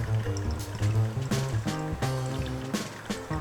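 Hot water poured from a kettle over drip coffee, a steady close pour that trickles and splashes in pulses, loud and alone.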